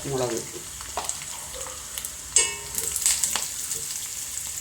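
Onions frying in oil in a pan, a soft crackling sizzle with a few sharper clinks and scraping stirs, fairly quiet and close.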